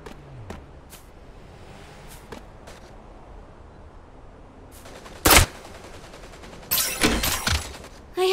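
Scattered faint shots give way to a sharp close blast and then a loud sustained burst of automatic fire in the mech battle royale game Super Mecha Champions.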